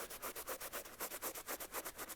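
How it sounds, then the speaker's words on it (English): Steady, rhythmic scuffing strokes rub back and forth across glossy spots on leather car seats, about eight passes a second, close and fairly quiet with no talking. "I can see glossy spots, so I'm going to actually scuff those."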